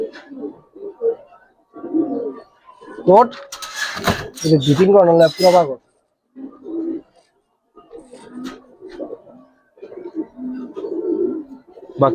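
Male pigeon of a Giribaz breed cooing in repeated rising, throaty bursts, close and loud, with short pauses between phrases.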